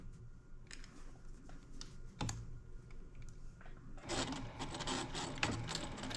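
A sewing machine stitching a straight line on fabric for a wine gift bag, near and steady, with a whirring mechanical chatter that grows louder and busier in the last couple of seconds.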